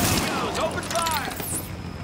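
Rapid bursts of gunfire in the video game Tom Clancy's The Division, dense overlapping shots and echoing cracks filling the space, loud and close, with a voice briefly calling out amid the shooting.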